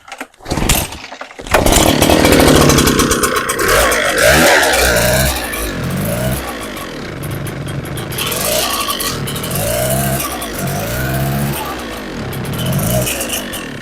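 A small two-stroke Echo leaf blower engine pulled over a couple of times, then catching and running roughly, its revs rising and sagging in uneven surges as it bogs down, loud and close.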